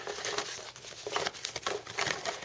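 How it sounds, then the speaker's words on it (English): Paper slips marked with football team names rustle and crinkle as they are shuffled by hand, a close, busy stream of soft crumpling pulses with no talking. "go ahead and shuffle these up"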